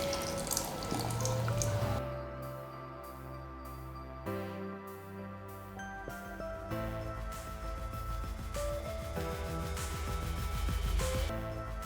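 Water is poured and splashes steadily into a blender container of potato nearby, with a bright rushing stream and a few changes in flow, no voices.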